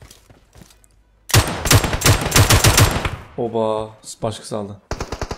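Rapid automatic gunfire from a PUBG Mobile match, a loud sustained burst of close shots followed by a brief pause and scattered further shots, with someone talking excitedly over and between the bursts.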